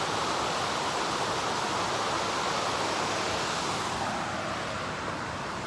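A fast-running river rushes past on an overcast morning, a broad steady roar of flowing water that holds level and close, fading slightly toward the end.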